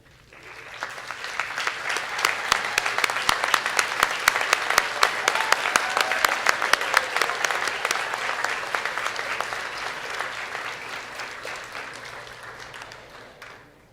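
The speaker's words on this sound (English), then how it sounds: "Would the recipients of all these awards please stand for a round of applause?" A large audience at a Nova Scotia Community College convocation gives award recipients a round of applause, sustained dense clapping that swells, holds, and fades out over about fourteen seconds.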